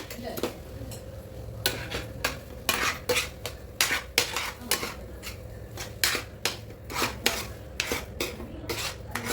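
A spoon rasps and scrapes rhythmically against a pan as semolina and sugar are mixed for pineapple kesari, with repeated close strokes.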